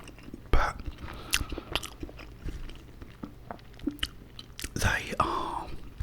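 Close, crunchy bites and wet chewing of hot vegan sausage rolls fresh from the oven, with sharp crackles of flaky pastry scattered across the clip. A soft whispering voice is heard between the bites.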